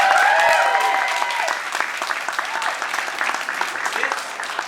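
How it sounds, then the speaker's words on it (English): Audience applause greets the new Los Angeles Department of Transportation general manager, a dense, sustained patter of many hands, with a voice briefly over the start before the clapping carries on alone. "Give her a round of applause for being here."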